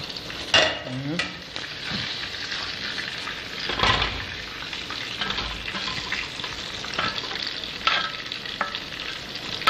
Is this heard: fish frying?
yes